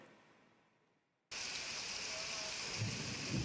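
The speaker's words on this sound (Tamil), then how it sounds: "இரண்டாவது நாளாக இடி மின்னலுடன் கனமழை பெய்தது" Heavy rain with thunder falls in Kallakurichi district, Tamil Nadu. After a quiet opening, a dense, loud, steady roar of downpour starts abruptly, with low rumbling swelling near the end.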